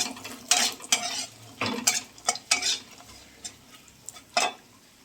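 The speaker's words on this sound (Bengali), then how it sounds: "এবারে বড়িগুলোকে আগে ভেজে নেব।" Bori lentil dumplings frying in hot oil, with a soft sizzle under a series of close, sharp scraping and clinking strokes from a utensil against the pan, irregular and spaced out.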